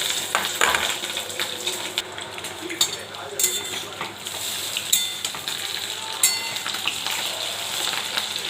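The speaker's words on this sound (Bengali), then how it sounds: "এই যে বড়া, এই দেখুন দিয়ে দিচ্ছি। ফুটবে, গায়ে ছিটকাবে।" Fish roe fritters go into hot oil and fry with a busy crackling sizzle, punctuated by sharp spatter pops and the clatter of a utensil against the pan; no one speaks.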